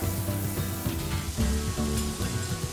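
Onions and green chilies sizzle steadily in a hot pan for an egg biryani, a loud, close, continuous frying crackle with faint stirring.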